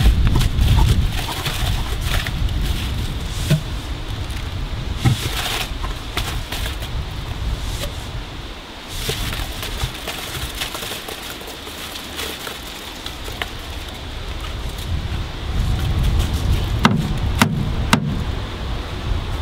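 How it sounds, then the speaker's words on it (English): Old DI resin beads pour and rattle out of a pressure vessel into a container, a continuous granular patter and hiss with intermittent shakes and clunks, fairly close and steady throughout. "in a suitable container, empty all of the old resin into it. This may need a little bit of a shake"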